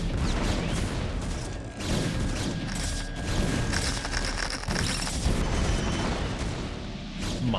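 Spider mines detonate in a StarCraft match, a run of dull booms and thuds within dense, continuous battle noise.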